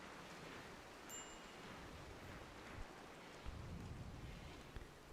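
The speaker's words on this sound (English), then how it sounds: "We got a foggy rain." Foggy rain in the video game RimWorld: a steady, soft hiss of rainfall with a few faint low rumbles and thumps, continuous and even, with no speech.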